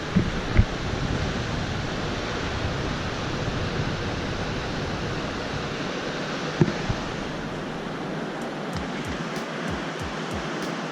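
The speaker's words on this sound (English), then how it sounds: "This is Nevada Falls." Nevada Falls in Yosemite, a steady broadband roar of falling water heard on a hiking trail, continuous and unbroken, with occasional wind buffeting the microphone.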